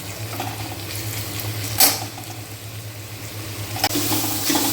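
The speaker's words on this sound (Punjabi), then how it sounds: "ਪਿਆਜ਼ ਸਾਡਾ ਜੀ ਭੁੱਜ ਰਿਹਾ ਵਾ ਪਿਆਜ਼ ਤੇ ਲਸਣ ਦਾ ਪੇਸਟ ਜਿਹੜਾ ਉਹ ਭੁੱਜ ਰਿਹਾ ਵਾ" Onion and garlic paste fries in a pan for street-style Amritsari kulcha, a steady low sizzle with a background hum and occasional stirring scrapes, no voices.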